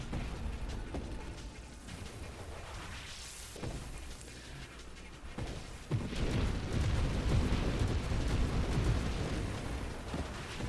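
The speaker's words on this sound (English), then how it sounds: "That guy just got bombed to oblivion." Explosions in the space shooter Nova Drift, with a flak gun build, rumbling deep blasts and bursting booms layered together, swelling louder and denser in the second half, with no talk over it.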